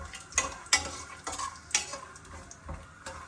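Peanuts frying in hot ghee for Telugu-style corn upma, with stirring scrapes and clinks of the pan over a soft sizzle, the strokes landing in a loose rhythm about every half second.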